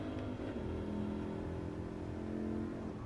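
A faint, distant engine drones with a steady buzzing tone that shifts slightly in pitch, with no voices.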